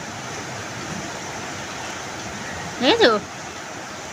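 Heavy rain pours in a steady, dense wash of hiss that runs unbroken throughout, with a short spoken word breaking in near the end.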